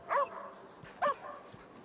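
A dog barks twice in the video game Arizona Sunshine 2, two short, fairly close yips about a second apart over a quiet background.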